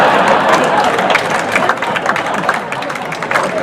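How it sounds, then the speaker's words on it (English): Audience at the 2014 South Dakota Democratic Party convention in Yankton applauds steadily in a large hall, dense clapping with some cheering and crowd murmur. "but like Stephen Colbert, I like to hear the applause."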